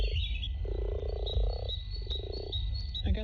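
Mating frogs croak at a park pond in two long, pulsing trills, fairly close and clear over a low outdoor rumble, with no talking.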